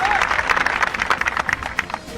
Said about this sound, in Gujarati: બધા તમે આયા છો એ મહેમાનો, આગેવાનો અને જેટલા કલાકારો છે એટલા બધા તાળીઓથી જોરદાર વધાવજો